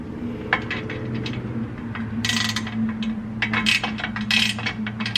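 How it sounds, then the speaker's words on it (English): A ratchet clicks in quick bursts as it tightens skid plate bolts on a 2017 Toyota Tacoma, close-up metallic ratcheting with short pauses between strokes over a low background hum. "Tighten these guys down first."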